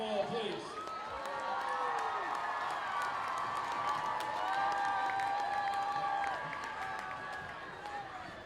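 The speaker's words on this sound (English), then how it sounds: "One more big hand for them all, please." Crowd in the stands at a high school homecoming football game applauding seniors: sustained clapping and cheering from a large gathering, with a few whoops over the noise and a voice carrying above it.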